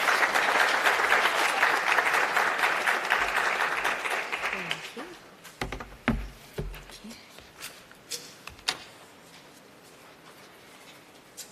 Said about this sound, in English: A round of applause, please, for her as she makes her way to the stage